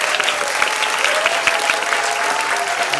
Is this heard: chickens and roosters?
no